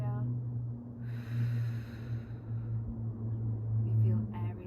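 A soft, drawn-out exhale during prenatal Pilates in the second trimester, a breathy hiss that swells for about a second and a half over a steady low background hum.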